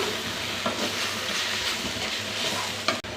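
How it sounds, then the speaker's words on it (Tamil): Masala with spice powder sizzles loudly in a hot pan while a utensil scrapes and stirs through it, with a sharp clank near the end, while cooking Tamil urundai kulambu. "இதெல்லாம் சேர்த்து நல்லா மிக்ஸ் பண்ணிட்டுக்கலாம்"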